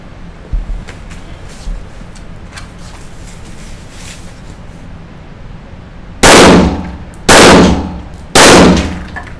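Three loud, sharp gunshots fired at a shooting range ring out in quick succession near the end, each with a decaying tail, after several seconds of quiet wind and ambient noise.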